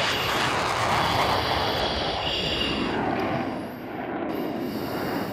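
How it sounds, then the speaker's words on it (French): A two-seat Rafale fighter jet of squadron 191 Gascogne takes off with both afterburners lit, a loud, steady, broadband roar that swells and dips slightly, with no talking. "top lâcher les freins, post-combustion enclenchée. Les 2 PC sont branchés."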